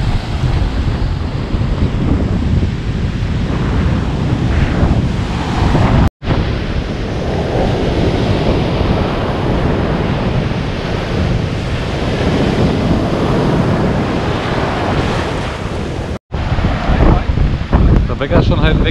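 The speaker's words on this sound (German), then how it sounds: "Hier, voll die Wellen, wir dürfen auch nicht ins Wasser." Rough surf at Fort Lauderdale Beach, Florida, roars continuously while strong wind buffets the microphone, a loud, dense wash broken by two brief dropouts.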